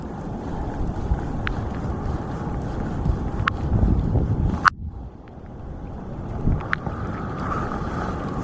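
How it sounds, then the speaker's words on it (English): Wind gusts roar steadily across the microphone outdoors beside a creek during snowfall, a continuous close rushing noise with a few faint clicks and one sharp tap midway. "Snow coming down, wind's blowing"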